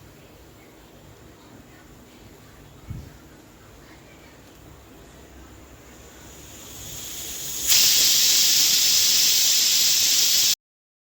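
A pressure cooker holding lentils and ridge gourd builds to a loud, steady steam whistle that bursts in abruptly near the end after a low background hiss, with a brief thump earlier.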